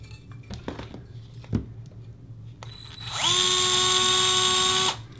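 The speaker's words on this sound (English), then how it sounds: "just grab one of these plastic nuts and screw them onto the screw" A small electric driver runs in one steady, fairly loud whirring burst of under two seconds on plastic nuts and 12mm screws of an EMAX Magnum F4 quadcopter frame, after some faint handling clicks and rustles.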